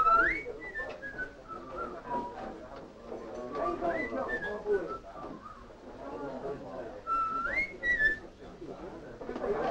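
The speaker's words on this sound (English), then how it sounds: "Why are you whistling that tune?" A man whistles a melodic tune in a period drama scene, the clear warbling notes rising and falling in short phrases, fairly close and alone.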